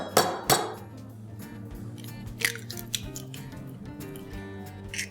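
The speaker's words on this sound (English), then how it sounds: "I'm going to crack open an egg here." An egg being cracked open into a measuring cup, a couple of sharp shell taps followed by lighter clicks and clinks of shell against the cup, close and clear in a quiet kitchen.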